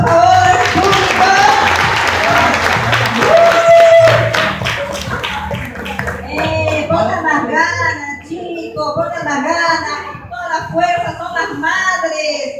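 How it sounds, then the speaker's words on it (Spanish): Audience applause for a mother at a Christian Mother's Day performance: dense crowd clapping fills the first several seconds, then fades as voices and talk take over in the second half. "Madre complaciente, aplauso, por favor."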